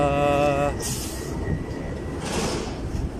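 Train noise at Praterstern station in Vienna: a steady rumble with a brief rising whine at the start, then hissing bursts like doors or brakes venting, heard close on the platform.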